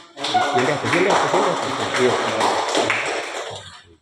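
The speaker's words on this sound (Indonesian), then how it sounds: "Tepuk tangan." Children in a school classroom clap their hands together in a brief, energetic burst of rapid, uneven claps that rises quickly, holds for a few seconds and fades out.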